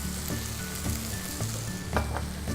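Eggplant and basil sizzle and fry in a pan over high heat, a steady crackling hiss broken every half second or so by stirring scrapes and clinks, close and moderately loud.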